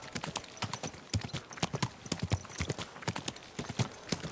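Horse hooves clip-clop in a quick, steady rhythm, close and clear, with a faint whinny-like sound in the background and no talk.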